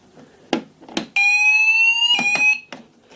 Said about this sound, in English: You can sound the system with key switch as well.